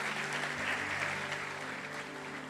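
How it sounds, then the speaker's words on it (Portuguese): A church congregation applauds during an evening worship service, a soft, steady wash of many hands clapping at a distance, without speech. "Você pode aplaudir o Senhor?"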